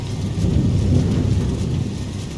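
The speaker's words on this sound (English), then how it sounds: "Oh, there's the thunder rolling in." Low, steady rumble of rolling thunder in a storm with rain falling, loud and continuous throughout without any voices.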